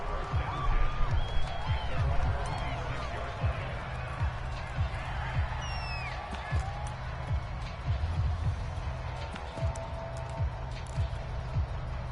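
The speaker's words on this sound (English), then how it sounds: "And the home crowd loves it." A home stadium crowd cheers in a Madden NFL football video game, a broad sustained roar running the whole time with play-by-play commentary talking over it.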